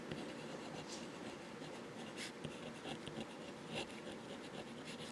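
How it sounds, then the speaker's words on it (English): Visconti Homo Sapiens fountain pen writing with its nib reversed on paper, a soft continuous scratching with faint stroke accents, quiet and close with no talking. "Reverse writing for those who get into reverse writing."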